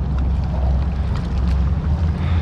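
Strong northeast wind gusting at 15 to 25 mph across a fishing bridge, a loud, continuous low roar of wind buffeting the microphone for the whole stretch.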